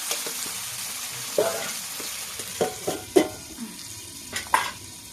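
Spiced meat frying in a pan for kasha, cooked in its own released oil: a steady soft sizzle runs underneath while several sharper stirring scrapes and clinks pop out at irregular moments, close and moderately quiet.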